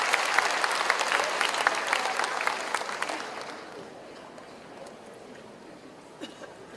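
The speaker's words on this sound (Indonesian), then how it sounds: "Kita beri tepuk tangan untuk Ketua MPR kita." Loud crowd applause at a pesantren (Islamic boarding school) event for about three seconds, then fading quickly into quiet room noise with a few stray claps.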